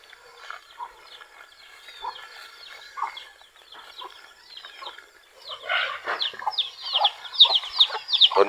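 Native and hybrid farm chickens clucking and calling in a pen, a scatter of short calls early on that thickens into a busier, louder flurry of overlapping clucks toward the end.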